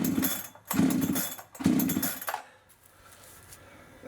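A Farmertec G372XP chainsaw is being pull-started, with three loud, rough cranking bursts close by in quick succession, each separated by a short pause, before it falls quieter.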